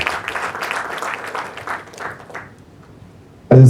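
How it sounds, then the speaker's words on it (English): Audience applause for a professor at an endowment lecture, dense sustained clapping from a crowd for about three seconds, fading out before a sudden loud thump at the end. "Let's give him a round of applause."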